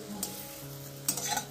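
Luchi frying in shallow oil and being stirred, a soft steady sizzle broken by a few close scraping strokes, heard alone.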